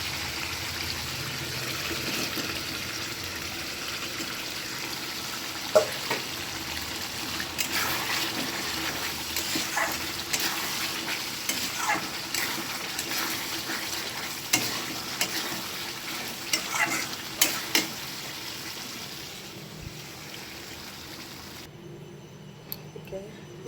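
Pre-fried potatoes tossed into hot spiced oil, sizzling and frying steadily while being stirred, with scraping clinks of the utensil in the pan and quiet speech in the background.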